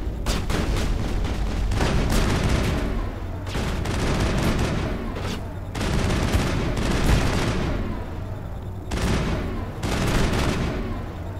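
Gunfire in a Mass Effect multiplayer match: loud, sustained bursts of rapid shots come in several waves separated by brief pauses, close and heavy, with little talk over them.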